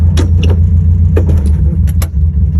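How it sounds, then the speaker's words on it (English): Volkswagen Karmann Ghia idling steadily in neutral with the parking brake on while the gear lever is moved into low gear, a continuous low engine drone with a few short clicks and clunks from the shifter. "We're going to shift into low gear,"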